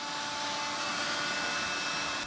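A Dyson DC59 cordless vacuum cleaner running steadily, a continuous close whine and airy rush with faint tonal hum and no pauses.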